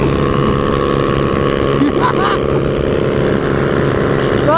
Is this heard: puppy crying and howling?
no